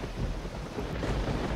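Low, steady rumbling thunder from a thunderstorm in the video game Risen, continuous and moderately loud with a windy, rain-like wash and no talking.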